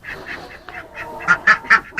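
A mama duck near her nest of eight eggs gives a run of short nasal quacks, growing louder and closer toward the end.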